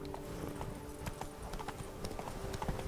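Roach, a horse in The Witcher 3 Blood and Wine, gallops with a steady, rapid clip-clop of hooves, close and fairly loud, over a low ambient game backdrop.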